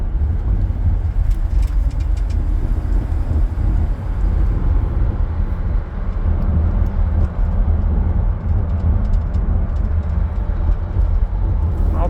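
A 1993 Chevy Beauville van rolls over a bumpy road, its loud, continuous low rumble and road noise filling the cabin with jostling thumps and rattles throughout.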